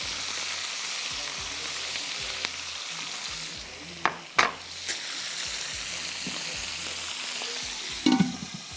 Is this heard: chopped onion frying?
yes